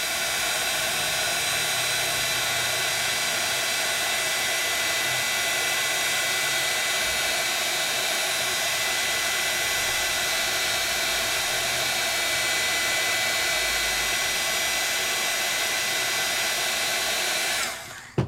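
A heat tool blowing hot air to melt embossing powder, heard as a loud, steady close-up whoosh and hiss that runs unbroken for the whole stretch before cutting off at the end.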